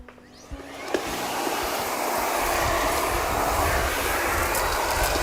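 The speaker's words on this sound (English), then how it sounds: "Once the brush is clicked into position, you can start vacuuming." A Miele Complete C3 cylinder vacuum cleaner fitted with a Parquet brush starts up and settles into a steady, loud broadband whoosh and hum, running continuously close by with no talk.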